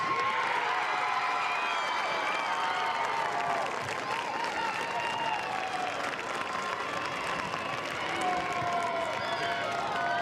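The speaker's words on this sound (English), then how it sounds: "one more round of applause for the 2023 football homecoming king and queen and their parents" A crowd at a high school football game applauds the homecoming king and queen, with steady, sustained clapping and some cheering from many people throughout, fairly distant and even in level.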